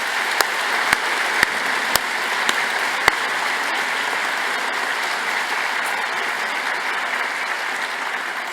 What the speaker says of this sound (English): join me in giving them a warm round of applause to thank them